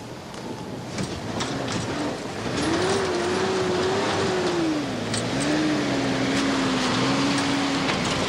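Expedition off-road vehicles drive along outback station tracks in Queensland, their engines a steady close drone whose pitch climbs and sags as they travel, with no voices.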